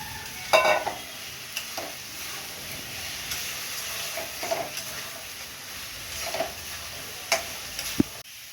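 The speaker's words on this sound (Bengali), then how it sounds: "এবার আলুটা দিয়ে এবার ভালো করে কষিয়ে নেব।" Potatoes being stirred and sautéed in a pan for a double-yolk egg and potato dish: a steady low sizzle with scattered scrapes and light clinks of the spoon against the pan, no voices.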